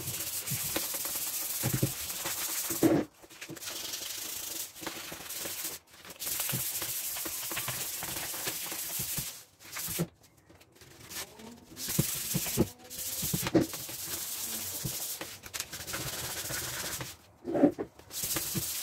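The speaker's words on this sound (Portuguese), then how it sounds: "essa aqui é uma mesa de MDF, eu usei uma lixa 220" Sandpaper of 220 grit rubbing across an MDF work table top, a steady close scratchy hiss in long strokes broken by brief pauses, with a few knocks as the paper is lifted and repositioned.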